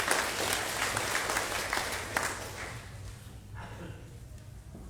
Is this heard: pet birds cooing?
no